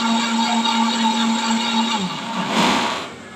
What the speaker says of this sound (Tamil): நம்ம வதக்கி வச்ச தக்காளி பேஸ்ட்டை மிக்சியில் போட்டு மிக்சியில் அரைக்கணும்